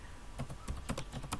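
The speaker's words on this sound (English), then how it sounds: "So you just type, when I try to open an account," Quiet keystrokes on a computer keyboard as a message is typed, a short irregular run of light taps up close with no talking.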